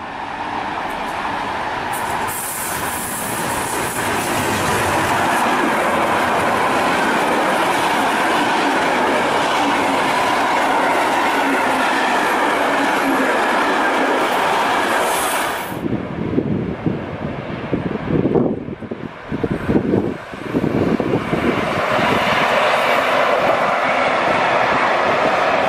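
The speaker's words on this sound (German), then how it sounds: "Am anderen Ende des Bahnhofs verlässt der Güterzug Jaido und wird am frühen Morgen Bergen erreichen." A freight train pulls out of a station on Norway's Bergen Railway with a loud, steady rumble and roar. Near the end the wagons rattle past in uneven clickety-clack bursts.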